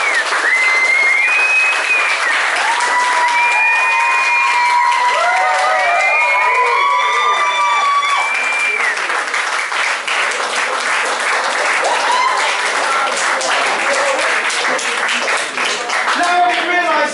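A party crowd at a pub gathering gives a long, loud round of applause with whoops and cheers layered over the dense clapping, sustained throughout.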